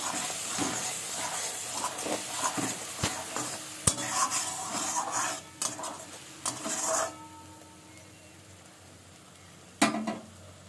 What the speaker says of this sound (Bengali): দেখো আমি মশলাটা দিয়ে একটু নেড়ে ঝেড়ে নেবো